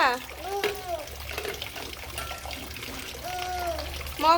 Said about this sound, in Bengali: চলো এবার স্নান করবো